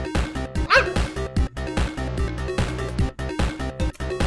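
A person imitating puppy barks, a quick run of high yips and yaps over loud electronic game music, bunched near the start and mixed under the beat.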